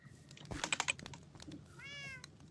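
A Minecraft cat meowing once, a short rising-falling tone that stands out clearly among soft clicking, like typing, just before it.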